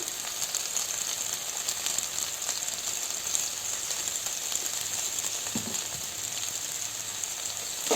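Onions sauté with rock salt in a pan for an egg drop curry, giving a steady, even sizzle that holds throughout at moderate loudness, with no speech.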